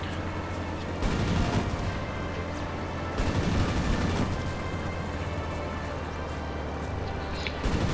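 Aircraft cannon fire in World of Warplanes during a heavy dogfight, dense rapid bursts rattling at moderate distance over a constant engine drone, with two heavier volleys standing out.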